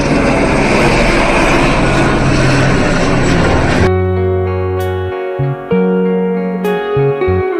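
A helicopter flies close to a helipad beside a building, a loud, dense rotor and engine roar for about four seconds before music abruptly takes over.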